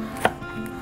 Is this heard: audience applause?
no